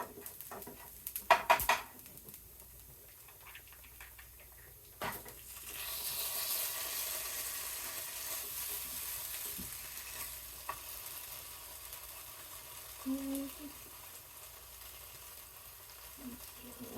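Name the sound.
stirring cream cheese into caramelized onion miso pasta sauce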